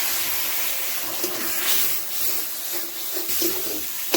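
Water from a tap runs steadily into a cooking pot after rinsing it, a continuous close hiss and splash with slight changes in flow, no talking, while jackfruit kofta curry is being prepared.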